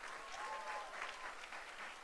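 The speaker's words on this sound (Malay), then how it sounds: "Tepukan untuk upline kita semua." Steady, dense applause from an audience at a sales and marketing plan talk, fairly soft and even throughout with no break.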